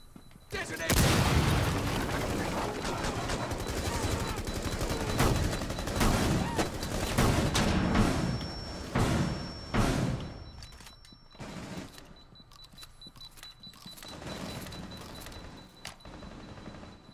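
A breach charge detonates in the shooter game Rainbow Six Siege, a loud close blast followed by a long rumbling roar, with debris and gunfire bursts afterward and a voice calling out briefly.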